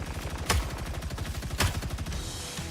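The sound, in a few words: gunfire in a video game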